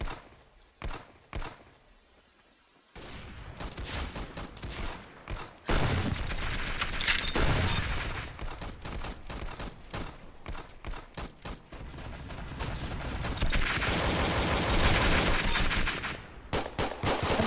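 Video game gunfire in an Arsenal match: a few isolated shots, then dense rapid bursts and automatic fire rattling almost continuously, loud and close, with no talk.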